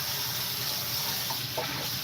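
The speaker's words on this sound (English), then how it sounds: "washing up the big frying pan" Tap water runs steadily into a big frying pan as it is rinsed out at a kitchen sink, a continuous close rushing with slight splashy changes as the pan shifts under the stream.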